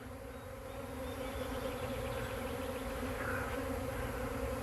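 A swarm of honey bees buzzes in a dense, continuous drone, many wings humming together at a steady level, faint and without voices.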